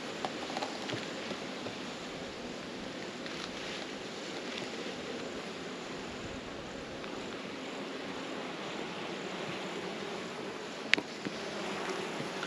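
Honey bees buzz around an Australian hive with boxes packed full, a soft continuous hum that persists throughout, with a brief sharp knock near the end.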